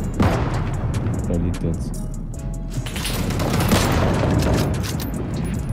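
Gunshots in the survival shooter Deadside, distant shots and booms rumbling under someone speaking German in a co-op match, with dense low thuds filling most of the stretch.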